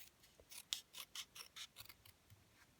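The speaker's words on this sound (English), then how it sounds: "is snip it in half and then stick it either side of your greeting panel like that" Scissors snip a piece of card paper in half for a greeting card panel, a quick series of about a dozen crisp close cuts in steady rhythm with no talk.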